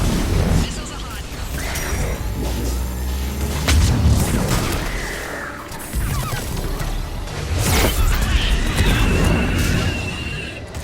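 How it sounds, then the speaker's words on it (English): Missile launches and heavy explosions in the Mass Effect 3 combat, with loud booms, crashes and whooshing blasts rolling continuously across the scene, talk mixed in. "Missiles are hot."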